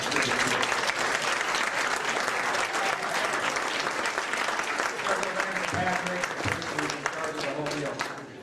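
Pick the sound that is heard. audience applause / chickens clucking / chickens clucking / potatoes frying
audience applause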